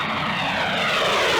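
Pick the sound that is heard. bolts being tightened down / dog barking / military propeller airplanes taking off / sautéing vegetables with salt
military propeller airplanes taking off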